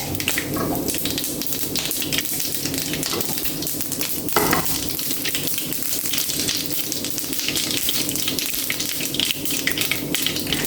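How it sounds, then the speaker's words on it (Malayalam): Dense, continuous crackling and popping of mustard seeds spluttering in hot oil, close and loud, with no voices. "അതിലേക്ക് ആവശ്യത്തിനുള്ള കടുക് ഇട്ട് ആ കടുക് നന്നായിട്ട് പൊട്ടട്ടെ"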